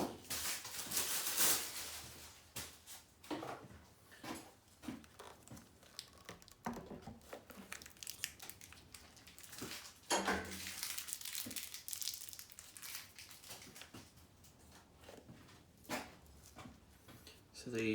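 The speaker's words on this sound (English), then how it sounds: "We're just in the process of unboxing the battery." Cardboard and plastic packaging from a new Yamaha R1 motorcycle battery rustles, crinkles and tears in frequent irregular bursts close by, with someone talking over it.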